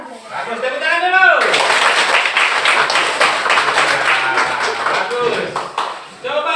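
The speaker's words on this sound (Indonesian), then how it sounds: "tepuk tangan dulu" Students in an Indonesian classroom Quran recitation lesson burst into a brisk round of hand clapping that lasts several seconds, following a teacher's brief speech, with voices mixed in.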